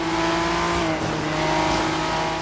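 A Ford GT in Forza Horizon 3 accelerates hard, its engine note loud, close and sustained, rising in pitch with a brief shift and a faint tire squeal.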